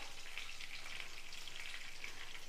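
Puliyodharai seasoning fries in a pan with a steady, close, even sizzle that holds without a break, and no voices.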